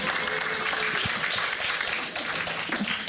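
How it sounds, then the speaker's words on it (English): An audience at a panel event applauds, a dense, steady wash of clapping from many hands close by, sustained through the whole few seconds without pause. "Y'all go ahead, clap it up for Dawn."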